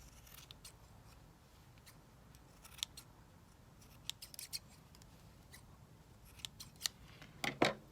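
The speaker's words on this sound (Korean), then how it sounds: "끝에 가위로 잘라서 다듬어 주세요." Scissors snip the yarn ends of a hand-knit tassel for a mochila bag drawstring, a string of quiet, sharp clicks scattered over soft background hiss, growing denser and louder near the end.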